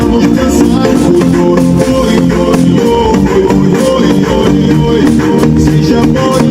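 Music from an MP3 on a flash disk plays loud and steady through the speakers of a Karimun Wagon R, heard from inside the car.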